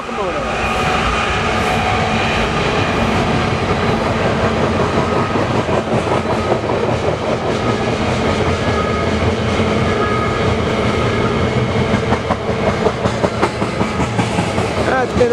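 BNSF ES44AC locomotive 6243 leads a westbound double-stack freight train near Spokane, a loud, steady rumble with continuous rhythmic wheel clatter and rail noise close by for the whole stretch.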